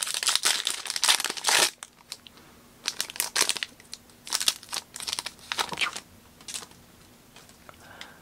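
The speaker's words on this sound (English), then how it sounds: "We just ripping cards." Foil trading card packs are ripped open and crinkled up close, with bursts of loud tearing and crumpling followed by quieter rustling as cards are handled.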